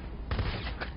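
A rapid burst of gunfire from a video game shooter, a dense crackling volley starting partway in and continuing to the end, loud and close.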